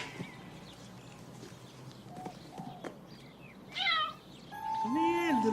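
A cat meows a couple of times, close and fairly loud, with quiet background noise and faint human voice around it.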